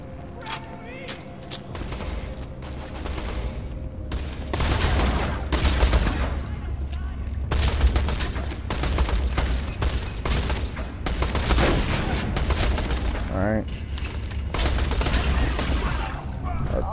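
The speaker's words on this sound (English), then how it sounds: "After watching you blast those bandits with that E-Tech gun" An E-Tech gun fires at bandits in the Borderlands 2 video game, with dense, repeated blasts and booms in continuous volleys over game sounds. A voice talks at times.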